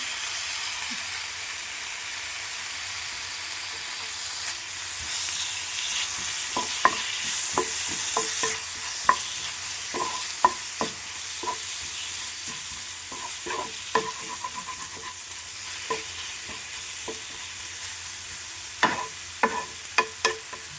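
Tomatoes frying in a pan seasoned with salt, turmeric, coriander and pepper powder, giving a steady close sizzle broken by frequent sharp clicks of a spoon stirring and scraping the pan.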